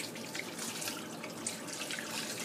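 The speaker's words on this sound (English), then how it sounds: "And then you're going to run the water back through." Tap water runs steadily into a kitchen sink, rinsing the seeds out of a chili pepper being prepared for chili rellenos, with a continuous close splashing hiss and no voices.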